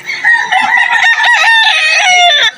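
A rooster crows loudly and close at an outdoor pet and farm animal market in Malabon, a long strained call in several rising and falling segments that carries almost the whole time, with no talk over it.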